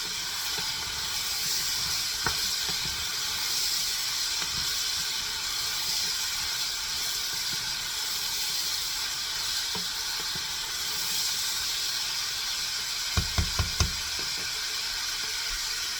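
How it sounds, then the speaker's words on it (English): A large batch of Hungarian lecsó vegetables sautés and steams over high heat, making a steady, loud sizzling hiss throughout, with a few brief clinks of stirring near the end. "When you have such a large amount, it's hard to saute because it tends to steam."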